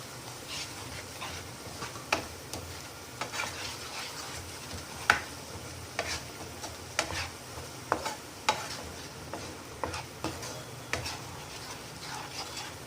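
Masala corn seasoned with black pepper powder is stirred in a pan. Soft, regular spoon scrapes and taps repeat about once a second over a faint, quiet sizzle, with no voices.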